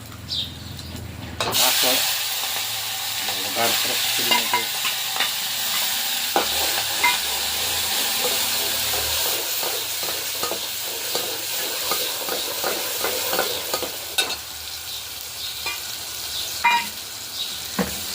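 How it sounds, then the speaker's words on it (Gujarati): Potato curry tempering sizzles in a hot pan with curry leaves, a steady loud frying hiss broken by stirring scrapes and small crackles throughout. "અને તો બટેટાનો વઘાર પણ સરસ ખાવા મળ્યો છે"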